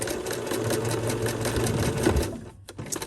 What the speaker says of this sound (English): I want to back stitch just right here so that we leave this gap